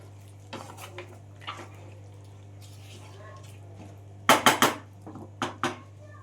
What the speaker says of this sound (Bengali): পাঁচ মিনিটের মতো আমি মটনের সাথে আদা রসুনটা ভালো করে কষিয়ে নেব।